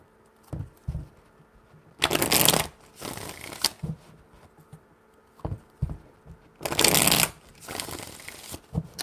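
Tarot cards being shuffled in several bursts, crisp riffling rattles with quiet pauses and soft tapping between them, close and fairly loud with no talking.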